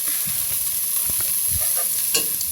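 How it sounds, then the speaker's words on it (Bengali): Onions frying in oil in a home village kitchen, being stirred as they cook, a dense continuous sizzle with scattered soft clinks and scrapes, close and steady, no voices. "এখন পেঁয়াজটাকে আমি সুন্দর করে ভেজে নেব"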